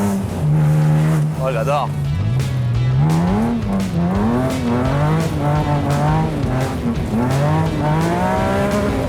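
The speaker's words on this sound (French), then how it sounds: "Rien qu'en tirant un peu sur le régime, Tu vois, à 3000 tours." BMW M3 fitted with a Rocket Bunny kit, its engine pulled up to about 3000 rpm while cruising, a steady loud drone rising and falling in pitch, with an excited voice speaking briefly over it.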